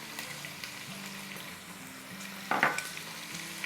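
Halved green chillies frying in oil for a meat pickle, a soft continuous sizzle with a brief louder crackle and stir midway, no voices.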